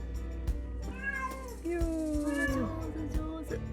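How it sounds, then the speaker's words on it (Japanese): A cat meows several times in a row, close and clear, its cries rising and falling over a quiet indoor room with a few soft knocks, while a young rescued sparrow is nearby. "猫の鳴き声でビビっちゃうな。"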